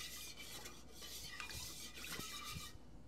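Seasonings are stirred together in a bowl, heard as a quiet, close scraping and clinking of a utensil against the bowl in short repeated strokes, faint overall.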